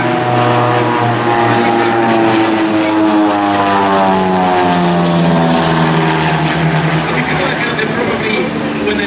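Propeller engine of an RV-8 light aeroplane drones loudly and steadily as it flies past at an air display in Jersey, its pitch sliding down with the passing.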